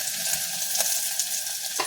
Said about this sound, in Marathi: ह्यात आता आपण एक छोटा बारीक चिरून कांदा घालणार आहोत